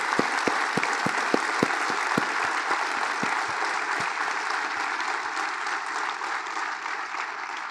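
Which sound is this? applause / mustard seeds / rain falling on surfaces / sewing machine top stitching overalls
applause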